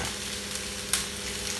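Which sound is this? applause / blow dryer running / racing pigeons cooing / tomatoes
tomatoes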